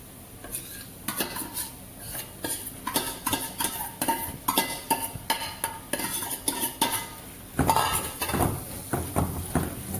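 Onion and tomatoes stirred into masala in a pan for Shahi Patiala chicken, a spoon scraping and clinking against metal in repeated close strokes over a low frying sizzle, with no talk.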